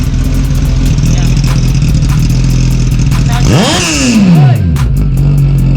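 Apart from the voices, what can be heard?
Suzuki GSX S 1000 or KTM Duke 390 motorcycle engine revving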